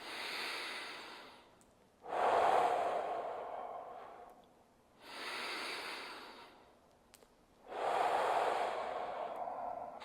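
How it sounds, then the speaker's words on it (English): Four slow, deep belly breaths taken during an ergonomic stretch for dental and office workers, each a long, airy inhale or exhale lasting about two seconds with short pauses between, close and fairly soft. "take your 4 big belly breaths"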